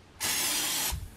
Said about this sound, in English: lightly spray. That was a little more than lightly,